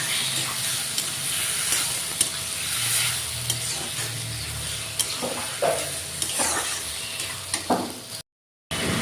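Pigeon meat cooks in a pan with onion, tomato and chilli, giving a loud, close sizzle with repeated scraping stirs and a brief dropout near the end, with no one speaking.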